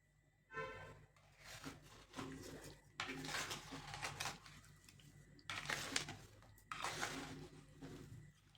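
Amla soaking in sugar is stirred in a container, with a few bursts of scraping and clinking against the sides. The bursts come in separate spells with quieter gaps between them, close by and moderately loud, and no one speaks.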